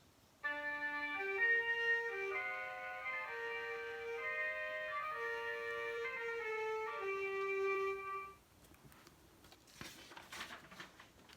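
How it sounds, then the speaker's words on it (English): Several orchestral wind instruments play sustained notes together in a steady ensemble passage during rehearsal, then stop abruptly, leaving quiet background shuffling and faint noises. "Here is some of the wind musicians rehearsing."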